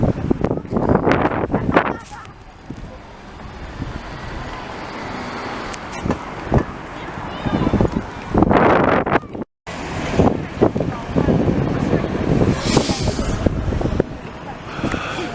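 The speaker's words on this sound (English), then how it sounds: "it is really windy today" Strong gusts buffet the microphone outdoors on Rue St-Denis in Montreal in loud, uneven bursts, with traffic passing nearby and occasional voices.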